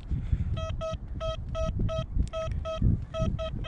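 A Deus 2 metal detector sweeping over coins on a beach, with repeated short, clear electronic beep tones in quick bursts over wind rumble and low handling noise.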